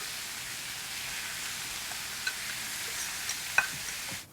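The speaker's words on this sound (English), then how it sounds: "Now we're putting the onion in there" Onion fries in ghee and mustard oil with ginger and garlic paste for mutton rarha. A soft, even hiss continues throughout, with a few faint clicks near the end.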